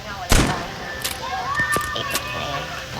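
Scattered sharp gunshots from a machine gun in a video game, a few loud separate bursts rather than sustained fire, mixed with game sounds and someone speaking.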